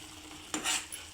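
Blended onion and tomato paste hits a hot pan and briefly sizzles, with a short scraping stir near the end. The sound is close and fairly quiet.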